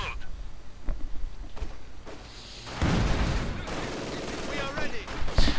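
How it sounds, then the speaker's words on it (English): A grenade bursts amid rattling small-arms gunfire in a WWII real-time strategy game battle, the blast loud and near, followed by continued crackling fire and a commentator talking over it. "Grenade going off, almost wiping out the Grenadier squad."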